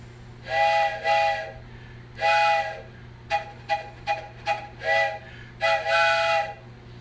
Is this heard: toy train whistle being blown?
yes